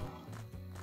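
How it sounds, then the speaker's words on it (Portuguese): A horse neighs briefly amid clopping hooves in the farming game Pumping Simulator 2, a short close burst with no talk over it. "Cavalo."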